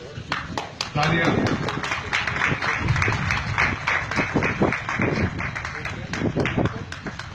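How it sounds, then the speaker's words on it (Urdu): Audience applause at a public speech, a dense wash of clapping with scattered sharp claps running steadily throughout, mixed with voices and crowd noise. "تالیاں."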